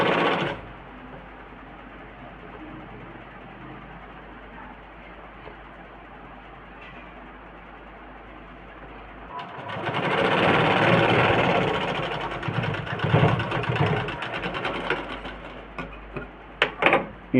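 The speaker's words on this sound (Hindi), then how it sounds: "यहाँ से बिल्कुल सीधी सिलाई" A sewing machine stitching a straight seam while altering a garment's shoulder, first a low, even mechanical whir, then louder and busier rattling that runs several seconds, ending with a few sharp clicks.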